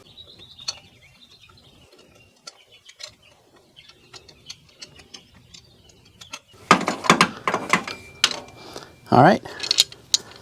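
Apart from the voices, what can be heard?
12mm ratcheting wrench spinning out a bolt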